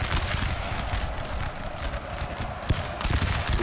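Cavalry horses gallop in Napoleon: Total War, a dense, continuous pounding of hooves mixed into a noisy battle din.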